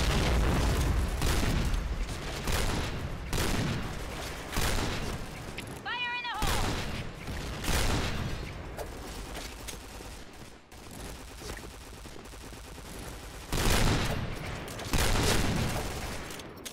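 Grenade blasts and gunfire from the Point Blank online shooter game, loud repeated booms and bursts of shots running throughout, with someone talking over the action.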